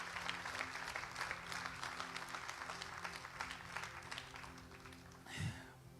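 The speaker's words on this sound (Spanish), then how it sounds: "si va a dar ese aplauso" Church congregation applauding during a sermon, a steady wash of many hands clapping, heard faint and somewhat distant, with a brief louder thump near the end.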